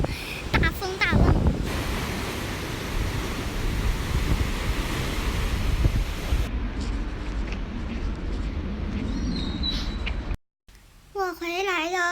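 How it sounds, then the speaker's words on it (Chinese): Strong wind buffets the microphone over rough seaside waves in a continuous loud roar, then cuts out abruptly, followed by brief indoor sounds. "外面风太大，太可怕了。"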